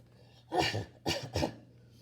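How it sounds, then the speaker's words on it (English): A small boy gives three rough coughs close by, one then a quick pair, over a faint low hum. "But suddenly she heard a cough."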